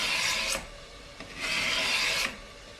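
A hand tool rasps along the wooden edges of a guitar fretboard to trim the binding, in two long, close scraping strokes separated by a short pause.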